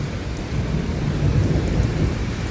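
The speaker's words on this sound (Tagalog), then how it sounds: "Napakalakas ng kulog dito sa Riyadh, Saudi Arabia." Thunder and heavy rain during a hailstorm in Riyadh, Saudi Arabia, a continuous dense rumble and patter with a deep low roar throughout.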